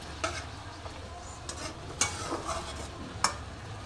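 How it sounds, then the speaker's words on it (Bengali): Broccoli and papaya pieces sautéing with spices in a pan give off a quiet, steady low sizzle, broken by a few sharp clicks and scrapes from stirring. "তো দেখো আমার সবজির সাথে মশলাটা একটুখানি কষা হচ্ছে"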